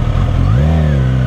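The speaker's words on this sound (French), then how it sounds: "la moto démarre." A Suzuki GSX-S 1000 motorcycle pulls away from a stop without throttle, its engine note loud and close, rising slightly in pitch as it moves off.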